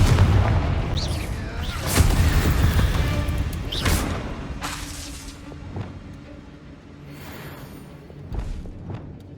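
Confringo blasting spells explode in the Hogwarts Legacy PC game: a string of deep booms and crashing blasts with whooshing tails, loudest at the start and fading to scattered, quieter impacts.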